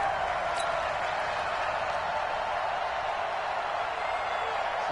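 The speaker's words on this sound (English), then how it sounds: "The crowd here in the Dome making things difficult." Steady broadband roar of a football crowd inside the Dome during a playoff game against the Saints, loud and continuous with no breaks.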